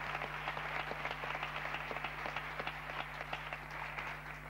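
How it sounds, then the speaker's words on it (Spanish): Studio audience applause on a Spanish magic television programme, a faint, even wash of many hands clapping with a low steady hum beneath, no voices. "Un aplauso para Ramón."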